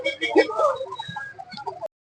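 A laying hen clucks in short, close bursts at a busy livestock market, its calls mixed in with nearby voices before the sound cuts off abruptly.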